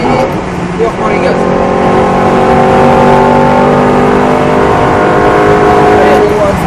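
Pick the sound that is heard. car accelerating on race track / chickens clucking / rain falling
car accelerating on race track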